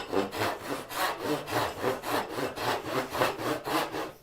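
Hand saw cutting a dado in wood, steady rhythmic back-and-forth strokes about two per second, close and clear throughout with no talking.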